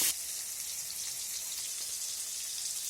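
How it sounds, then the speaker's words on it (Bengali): Chopped tomato, two green chillies and five-spice frying in oil, with a bright, continuous hissing sizzle that starts loud and stays steady for a few seconds. "এখন সব কিছু ভালো করে নেড়ে চেড়ে ভেজে নিতে হবে।"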